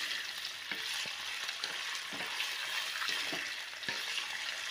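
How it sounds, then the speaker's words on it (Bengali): Chicken pieces fry in oil in a pan, a constant close sizzle broken by several sharp scraping clicks as a utensil stirs and turns them. "চিকেনগুলো দিয়ে তেলের মধ্যে হালকা করে ভেজে নিতে হবে"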